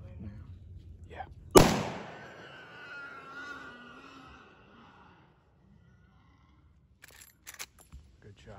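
Rifle shot at a boar hunting preserve, a single sharp outdoor blast nearby with a short fading echo, followed by quiet voices and faint rustling.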